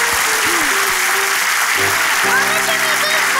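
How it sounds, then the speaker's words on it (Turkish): A burst of hand clapping from one or a few people indoors in a Turkish comedy scene, loud and close, with voices talking over it and a tonal melody line running alongside. "İpek sen neyi alkışlıyorsun?"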